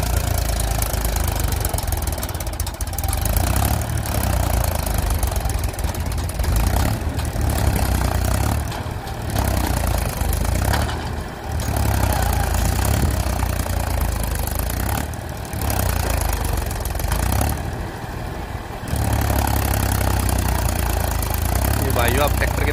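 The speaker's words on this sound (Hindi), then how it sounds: "ये महिंद्रा है 275" A Mahindra 275 tractor engine labors while pulling a loaded trolley, a loud, continuous low rumbling drone with knocking texture that surges and dips in several brief drops across the stretch.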